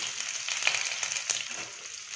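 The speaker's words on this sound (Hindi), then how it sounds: "अब इसमें हम कटी हुई प्याज डालेंगे" Chopped onions fry in hot oil with mustard seeds, giving a steady bright hiss with faint crackles and pops, close and moderately loud.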